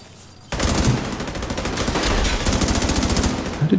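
Sustained automatic gunfire from The Division 2: Warlords of New York, loud and continuous after a brief quiet start, dense rapid bursts of shots layered over one another.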